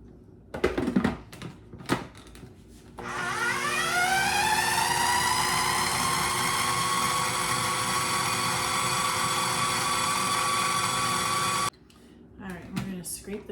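Food processor whipping homemade hummus, a steady loud whirring motor that starts after a few seconds of knocks and clatter, runs continuously for about nine seconds, then stops abruptly.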